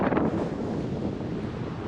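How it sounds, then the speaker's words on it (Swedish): Gusty wind buffets the microphone in a steady low rumble, with a brief louder burst at the start and no speech. "Det här blåser så mycket."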